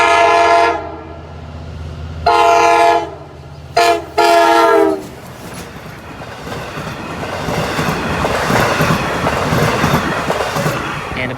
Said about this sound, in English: Riding hot on the heels of the 412 is the 410, the usual express between Jamaica and Montauk.